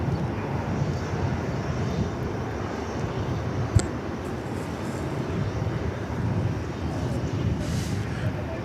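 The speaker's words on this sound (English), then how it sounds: "We have another arrival from San Antonio, Texas, flight 2792 American Airlines." An American Airlines jet, flight 2792 from San Antonio, arrives at DFW Airport with a steady, broad engine roar that holds at moderate level throughout, with one brief click partway through.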